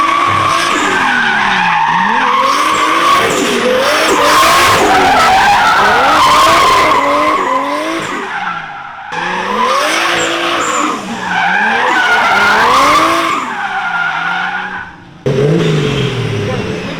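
Loud, sustained tire screeching from a car drifting on a wet compound lot, squeals rising and falling with engine revving, briefly cutting out twice before resuming.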